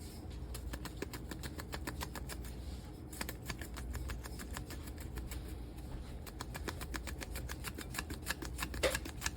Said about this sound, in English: Gotta be careful with the mandolins.